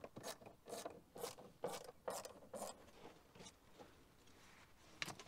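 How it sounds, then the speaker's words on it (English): Torx T20 bolts being undone on an interior panel of a BMW M2, a quiet series of quick ratcheting clicks in short bursts, close by with no talk. "we're going to undo 4 T20 bolts"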